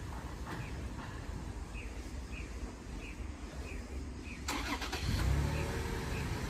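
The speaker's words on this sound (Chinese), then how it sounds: "重新熄火，重新挂档。" A car engine cranks and restarts after stalling, with a steady low rumble that grows louder and rougher toward the end, heard close by with a faint chirp in the background.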